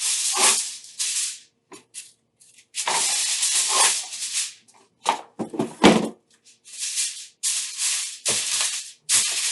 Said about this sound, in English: we're going to cover it with foil first